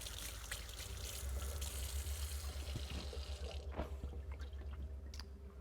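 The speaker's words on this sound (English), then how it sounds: "My hands are a little sticky. Let me give them a rinse." Kitchen tap water runs steadily into a sink as sticky hands are rinsed after making maple pecan pie squares, a soft continuous splashing with small drips, fairly quiet and alone.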